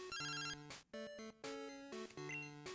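A video-game telephone rings in Pokemon Crystal, sounding as a bright, chiming chiptune jingle in repeated bursts with short gaps, played alone and fairly loud.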